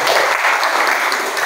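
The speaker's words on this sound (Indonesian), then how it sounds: "Oke, berikan tepuk tangan pada kelompok" Brief burst of applause from a school class in Indonesia after a group presentation, dense steady clapping from a room full of students.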